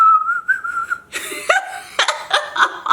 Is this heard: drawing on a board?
no